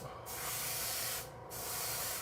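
Paint sprayer hissing a steady broadband spray onto an RC car body at about 40 PSI, two sustained bursts close up with a brief dip between them.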